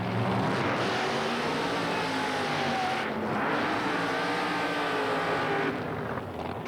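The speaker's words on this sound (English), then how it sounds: "Here's a door slammer taking on an open wheel car." Two drag racing cars, a door slammer against an open wheel car, roar down the strip in a sustained, loud engine blast with a rising pitch that sweeps past at mid distance, no voices.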